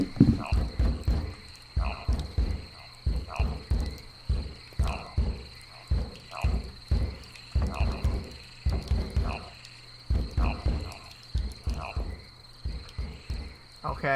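Frogs croaking in the video game Loveland, a rhythmic chorus of deep repeated croaks in pulsing bursts over a steady high insect-like drone, continuing throughout.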